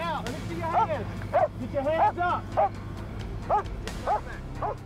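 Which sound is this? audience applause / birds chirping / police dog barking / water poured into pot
police dog barking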